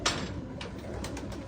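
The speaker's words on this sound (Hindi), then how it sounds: "ये देखो गाइस रामपुरी कबूतर" A Rampuri pigeon coos softly at close range, a few low, gentle pulses over a faint background hum.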